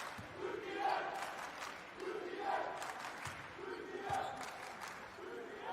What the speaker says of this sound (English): you've got a chant going from the crowd as a technical was called